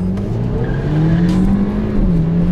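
A BMW 335i with the N54 engine and Stage 1 tune races hard, its loud engine note rising and falling close by alongside tire noise, with no voices.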